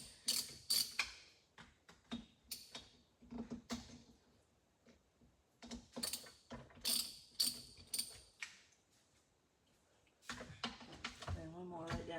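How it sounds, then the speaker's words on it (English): A screwdriver undoing screws on a Stihl MS 311 chainsaw carburetor, close, scraping clicks and ratcheting creaks in irregular bursts between faint spoken remarks. "There's a couple screws down in here I gotta undo."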